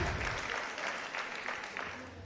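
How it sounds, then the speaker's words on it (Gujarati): A seated audience at a Gujarati motivational talk claps for themselves, producing a dense, fairly even patter of applause that carries through the whole stretch at moderate distance. "તમારા પોતાના માટે તાળીઓ પાડો એકવાર"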